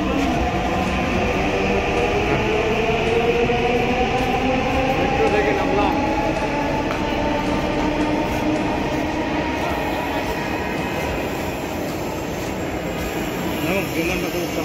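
A Dhaka Metro train runs with a continuous loud rumble and whine of wheels on rail inside the carriage, steady throughout, with speech faintly underneath.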